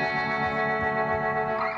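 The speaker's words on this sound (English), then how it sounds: "the verb guitar, which is this kind of really nice like tremolo thing." An electric guitar played through a tremolo effect in a song mix: a steady, shimmering sustained chord that holds evenly with a pulsing, effected sheen and no voices.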